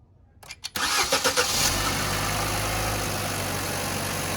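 A Buick Encore starting after a battery replacement: a few quick starter cranks, then the engine catching and settling into a steady, close idle.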